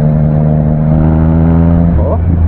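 A brand-new Triumph Trident motorcycle engine runs loud and close, holding a steady, smooth drone for a couple of seconds before a brief rise in revs near the end.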